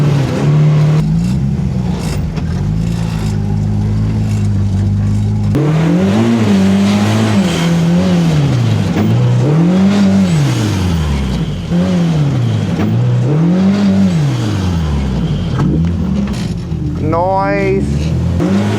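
A vehicle engine revs up and down in rising and falling surges as it climbs a tight off-road trail in two-wheel drive, loud and close throughout.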